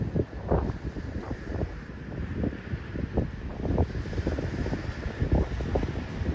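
Strong wind buffets the microphone on an eroding beach at Hemsby, a loud continuous low rumble with gusty surges and no speech.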